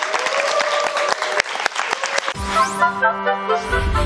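Loud audience applause at a lecture, dense rapid clapping that carries on as a musical tone and chord begin to sound over it.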